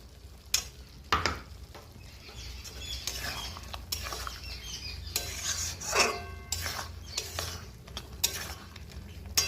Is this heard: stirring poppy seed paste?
yes